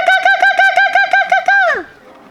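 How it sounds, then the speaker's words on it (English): A kookaburra call: a quick run of about eight loud, clear, hooting notes in a steady rhythm, ending in one longer note that slides downward and fades. "Kookaburra."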